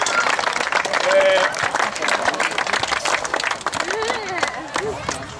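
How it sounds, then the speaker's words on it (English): After a local under-14 cup final, a crowd claps steadily for the match officials, with scattered outdoor applause going on beneath people talking and calling out. "I'd like to firstly thank the officials for a big round of applause."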